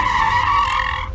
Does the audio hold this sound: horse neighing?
no